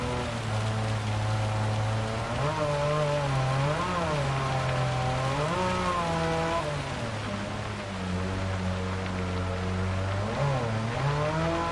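Rain falls on the wet Nurburgring track in the Gran Turismo 7 racing game, a steady hiss under a droning, shifting car engine throughout, with no talk.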